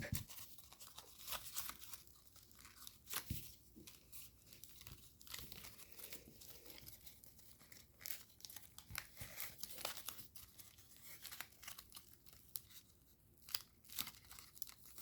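Paper crinkles and crunches in close, quiet handling as an origami helicopter model is shaped, its wings folded up, with intermittent creases and rustles throughout and no voices.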